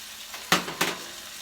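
Vegetables fry in a pan with minced garlic and oil, a soft steady sizzle broken by two sharp scraping clatters of stirring close by.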